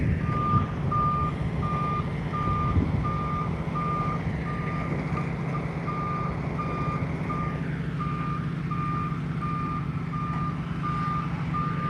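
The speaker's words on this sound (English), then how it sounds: "There's a second truck coming down the road too" A reversing truck's backup alarm beeps steadily at the SpaceX Starbase launch site in Boca Chica, Texas, a regular evenly spaced series over a constant engine rumble and outdoor ambience, no voices.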